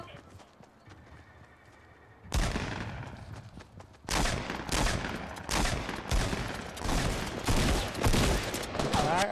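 Gunfire in the Fortnite video game erupts after a quiet start, with dense bursts of rapid shots continuing loudly and repeatedly to the end.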